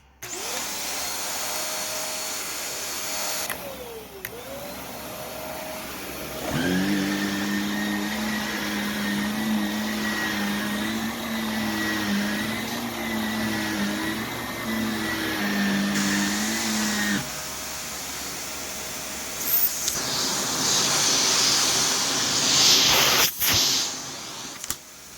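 A brand new Shark vacuum cleaner motor runs with a harsh, whining drone, switched on partway through and running loud and steady for about ten seconds before dropping back to a quieter hum with some handling clatter.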